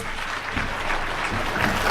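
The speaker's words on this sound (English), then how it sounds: "Let's give her another round of applause." An audience at an International Women's Day event gives a speaker another round of applause, with a continuous wash of many hands clapping at moderate loudness, steady and unbroken for the short stretch.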